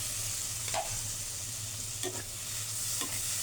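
Shrimp fry in spiced oil for a shrimp biryani, giving a steady soft sizzle with a few light scrapes of stirring, close and quiet, with no talk.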